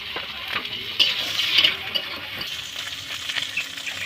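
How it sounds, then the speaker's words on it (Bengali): Large prawns frying in hot oil with onion and green chilli, a steady close sizzle with stirring scrapes and occasional louder spits throughout, no voices. "এখন এই বড় চিংড়ি মাছগুলো এগুলো দিয়ে দেবো দিয়ে ভেজে নেবো"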